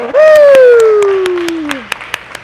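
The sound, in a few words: crowd clapping at a jump competition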